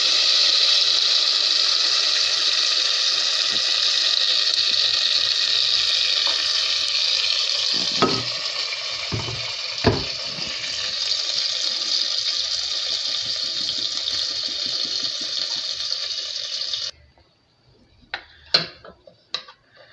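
Blended red sauce poured into hot melted butter sizzles loudly and steadily for about seventeen seconds, with a few clanks of utensil on pan, then stops, leaving a few light taps.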